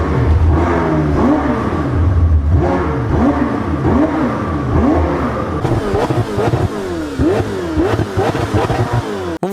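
McLaren 720S sports car engine revving hard in repeated rising and falling pulls, loud and close, with sharper quick blips toward the end and no talk.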